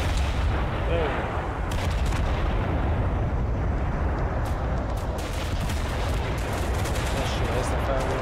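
Continuous artillery and gunfire fill a battle in the video game Total Conflict: Resistance, with dense overlapping blasts and rapid shots forming a loud, unbroken roar.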